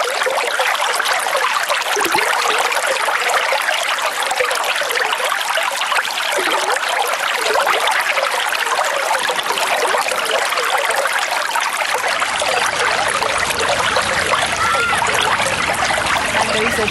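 Steady water trickles and streams without a break in an interactive exhibit where visitors pretend to wash clothes, loud and close, with faint talk in the background.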